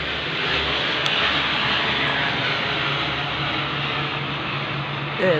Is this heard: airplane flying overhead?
yes